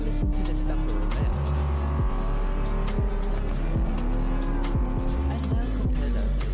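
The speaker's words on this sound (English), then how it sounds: "TD Solar Crown might just have the most realistic sounding cars in any video game. Take a listen to this offroad." An off-road car in the Test Drive Unlimited Solar Crown racing game revs hard with repeated gear shifts. Its engine note climbs and drops in a steady rhythm, with brief tire scrubs over a constant loud drone.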